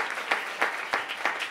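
Brief burst of audience applause at a Green Room stage show, dense clapping with a few sharper individual claps standing out, fairly faint and steady.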